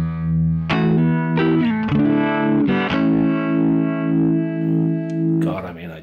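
Electric guitar played through a pedalboard with a harmonic tremolo effect, chords sustaining and pulsing in a steady wavering rhythm, loud and close, with a few new strums across the passage.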